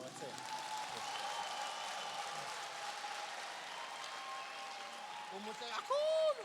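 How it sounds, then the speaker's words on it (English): A seminar audience applauds together in a steady, distant wash of clapping that goes on throughout, with a short voice breaking through near the end. "I want you to clap hands for the person that is seated next to you"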